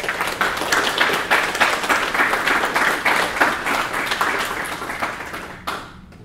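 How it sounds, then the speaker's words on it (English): A small group applauds at the end of a Sunday meditation and yoga class, with rhythmic, fairly close hand claps that build, hold steady and then stop abruptly near the end. "give a round of applause to Kelly for that beautiful class."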